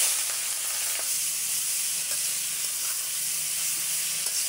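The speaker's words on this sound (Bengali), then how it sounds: "তেলের মধ্যে ভাজতে হবে।" Boiled pointed gourd mash with a little potato frying in oil, a steady dense hiss of sizzling with a few faint soft stirring taps, even and close, with no voices.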